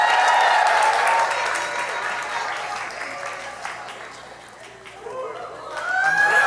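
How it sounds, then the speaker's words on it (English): An audience of students at a school activity cheers and claps for contestants, loud at first, fading in the middle, then swelling again, with shrill excited voices and squeals mixed in. "Cheer for them, cheer for them."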